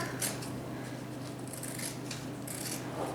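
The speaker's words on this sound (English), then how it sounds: "So we're just gonna trim it down a little bit more." Scissors trim a fake feather close up, making a run of soft, rapid, papery snips and rustles that repeat continuously without talk.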